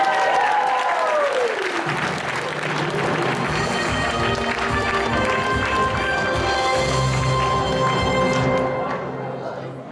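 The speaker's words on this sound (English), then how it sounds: "Let's give him a round of applause, guys." Convention audience at Anime Boston 2016 giving a game show contestant a round of applause at an anime-style Who Wants to be a Millionaire event: loud, dense crowd clapping filling the room for the whole stretch, with some cheering and voices mixed in.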